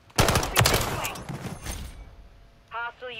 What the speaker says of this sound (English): Somebody taking some shots.